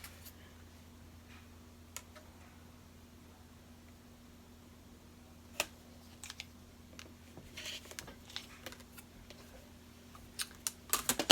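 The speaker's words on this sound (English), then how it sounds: "let me cut off the selvage" Rotary or straight cutter slicing the selvage off quilting fabric on a cutting mat, a series of faint clicks and short scrapes that grow busier toward the end, close but quiet over a steady low hum, with no talking.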